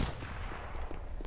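Gunfire in the video game CS:GO: a quick burst of shots at the start, then a few sparse, fainter pops over a steady background of game noise.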